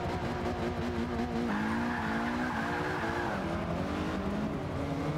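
Race cars in Forza Motorsport 5 roar around a track at pro difficulty, a steady loud engine drone with rising and falling gear pitches and tire squeal, several cars close together and no talking.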